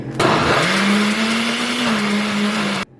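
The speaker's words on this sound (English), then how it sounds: "So with blending it, I usually have to like stir it around several times just because it is so thick because it's literally cookie dough" A blender grinds thick cookie dough with a loud, steady motor whir that wavers slightly in pitch, starting and cutting off abruptly.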